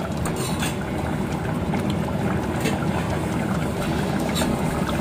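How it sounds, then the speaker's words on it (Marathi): Drumstick and potato curry (Malvani sheng batata rassa) simmering in a pot while being stirred, a steady close bubbling and sloshing texture that runs unbroken throughout. "आपण ढवून बघूया शेंगा शिजले आहेत का"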